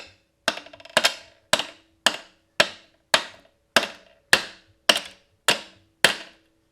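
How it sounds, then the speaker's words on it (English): About a dozen evenly spaced sharp taps of a plastic screwdriver against a Cr125 motorcycle engine, each a crisp close knock with a short ringing decay, and no voices. "You don't really want to tap a plastic screwdriver either"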